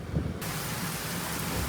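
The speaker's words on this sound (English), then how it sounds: "That's a pretty decent squall." A rain squall with thunder over a boat: dense, hissing rainfall pours steadily and loudly, with a deep rumble of thunder rolling underneath at the start.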